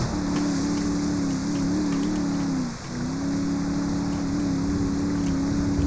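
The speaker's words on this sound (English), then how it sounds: "My boat engine go insane fast." A boat engine in Grand Theft Auto 5 drones steadily at a fairly loud level, with a small pitch wobble and a brief dip near the middle before it picks up again. The hum stays constant over an airy, rain-like background hiss.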